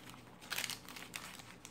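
Parchment paper on a handmade notebook page crinkles and rustles close up, in several soft bursts with brief pauses between.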